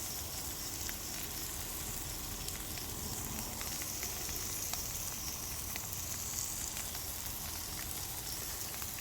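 Onions sizzle steadily in a hot pan while being fried for a BBQ Juicy Lucy burger, a dense, even crackle holding constant, close and moderately loud throughout with no talking.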